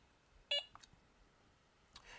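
A Delkim carp-fishing bite alarm gives two short, sharp electronic beeps a moment apart while its LED brightness settings are being changed, followed by faint handling clicks, close and clear in a quiet setting.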